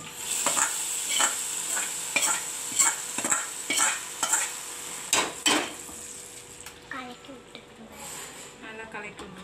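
Coconut milk payasam stirred in a pot: a regular run of metal spoon knocks and scrapes against the pot over a faint sizzle, fading to softer stirring near the end, with a voice talking in the background.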